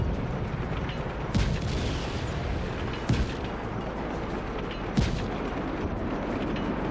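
Heavy tank cannon fire in Just Cause 3 during a battle, with three sharp booms at irregular intervals over a dense, continuous roar of combat noise and rumbling.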